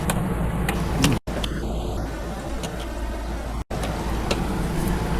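Jiffy Pop popcorn heats in a Backstone pizza oven outdoors, a few sparse, sharp pops scattered over a steady roaring hiss of the burner.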